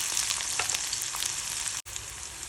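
Garlic, green chili and onion frying in a pan for a home-cooked Marathi vegetable dish, a steady, close sizzle with light crackles and a brief dropout near the end.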